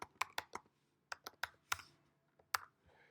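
A password is typed on a computer keyboard: a quiet, close series of irregular key clicks in short bursts, with brief pauses between them.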